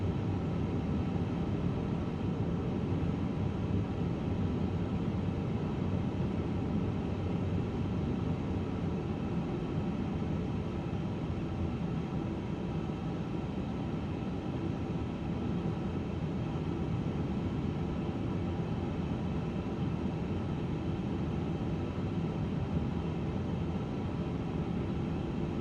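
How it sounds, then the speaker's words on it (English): A steady, continuous engine rumble and hiss from a Japan Airlines Airbus A350 taxiing in a flight simulator game, constant and unchanging with no voices. "We are taxiing."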